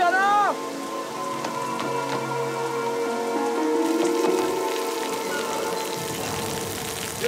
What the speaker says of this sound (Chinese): 刚刚遇着大雨